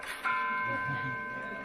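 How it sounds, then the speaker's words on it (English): A clock tower bell rings once, struck up close inside the tower, and its clear metallic tone hums on and fades slowly against quiet room noise. "so this is the bell, if you guys can hear that."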